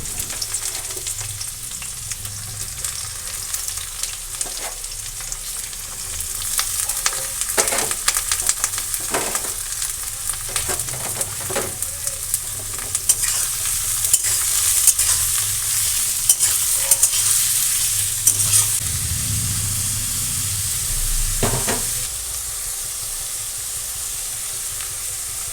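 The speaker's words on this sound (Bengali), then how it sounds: "আর এবার পেঁয়াজগুলোকে ফ্রাই করার জন্য বসিয়ে দেবো, আর সাথে চেরা লঙ্কাগুলোও দিয়ে দেবো" Sliced onions and slit green chillies fry in hot oil, giving a loud, continuous crackling sizzle with frequent spatters and stirring clicks, with no talking.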